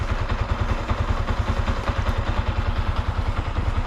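Motorcycle engine idling at a campsite, a steady low rhythmic thump of pulses repeating evenly, close and fairly loud with no talk.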